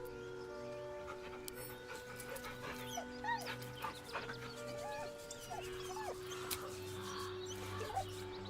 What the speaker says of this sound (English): The dog whimpers nervously,